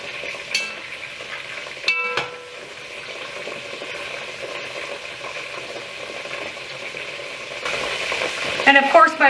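Chicken sizzles and fries steadily in a pan, with a few clinks of a utensil and stirring, rising to a busier crackle near the end; no one speaks.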